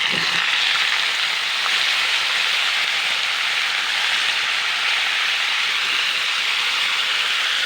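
Diced kohlrabi tipped into a hot pan of oil, giving a loud, even hiss of sizzling that holds steady throughout without voices.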